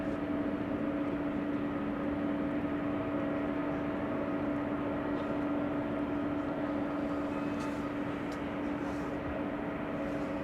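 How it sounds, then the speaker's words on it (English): An Embraer E2 195 airliner arriving at Amsterdam Schiphol toward runway 27 produces a steady, distant jet engine drone with a constant tonal hum, unchanging and alone throughout. "We have an E2 Embraer 195 coming in next to runway 27."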